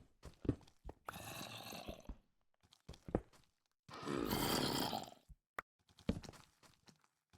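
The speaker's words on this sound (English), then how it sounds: "I hear the zombie roar." A zombie in a Walking Dead video game lets out two long, loud roaring growls, separated by bursts of short thumps and scuffling game noises.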